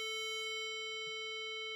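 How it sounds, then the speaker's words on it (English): A synthesized square-wave tone holds one steady, buzzy pitch with a hollow timbre, clean and alone at moderate level for the whole stretch. "And if I play a square wave, then it sounds like this."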